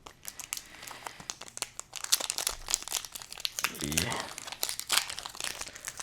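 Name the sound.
tearing open Pokemon card booster packs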